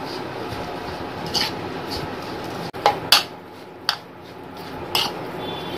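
Mixing ingredients with coriander leaves for undhiyu: a few sharp spoon clinks and scrapes against a metal pot, spaced irregularly, over a low background hiss.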